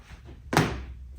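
Feet land on an indoor floor after an exercise jump, making one solid, fairly loud thud in an otherwise quiet room.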